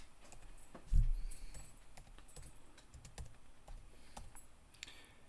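Keystrokes tap out on a computer keyboard while a drug name is entered into a prescription savings search form, a quick irregular patter of light clicks with one heavier thump near the start, close and alone.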